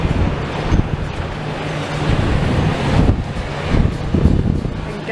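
Strong wind buffeting a microphone at a building demolition site, a loud rumbling roar that swells and gusts throughout with no clear speech.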